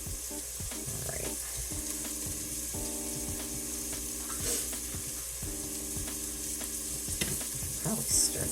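Onions sizzling in a pan as they are stirred, a steady close fry hiss with soft scrapes and clinks over a constant low hum, no talking.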